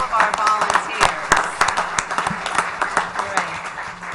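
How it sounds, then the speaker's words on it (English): A town council meeting audience claps for its volunteers, a dense stretch of many hands applauding together, loud and steady for several seconds with some voices mixed in. "I think that deserves a big round of applause for all of our volunteers."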